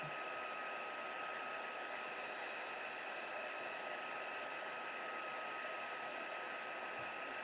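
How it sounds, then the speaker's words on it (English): A crafting heat tool blows steadily to heat-set a stamped craft piece. Its even airy whir with a faint motor tone holds constant at a moderate level throughout and is heard alone. "let's heat set that"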